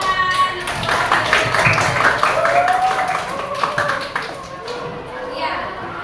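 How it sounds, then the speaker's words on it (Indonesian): Schoolchildren in a classroom clapping together, a loose patter of small hands with some taps and thuds, mixed with children's voices and chatter, easing off toward the end. "ya tepuk tangan"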